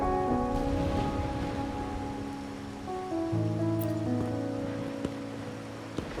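Steady rain falling in the world of Wuthering Waves, a continuous soft hiss of drops on surfaces, heard alongside sustained, gentle music tones with no one speaking.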